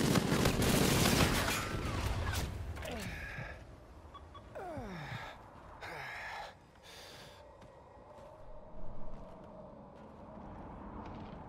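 Gunfire rattles in a Search and Destroy shooter match: a heavy burst of rapid shots up front, then scattered sharper bursts and whooshing effects at a moderate distance.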